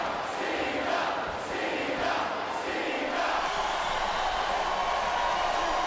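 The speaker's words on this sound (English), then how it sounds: "I think these superstars are getting some feedback from the crowd, JR." Wrestling arena crowd at a WWE Backlash event reacting to a John Cena intergender match, a loud sustained roar of many voices with rising cheers and shouts, filling the whole stretch.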